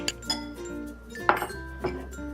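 A whisk beats egg white in a bowl, giving a few bright, irregular clinks and taps against the dish over a low background hum.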